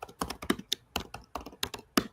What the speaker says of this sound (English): I'm just typing in the private chat